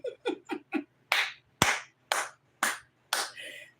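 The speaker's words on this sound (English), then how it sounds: "Anytime you hear the clap, that's Kobe." Ten sharp hand claps ring out close by, the first four quick and lighter, then six louder, evenly spaced claps, with no talking over them.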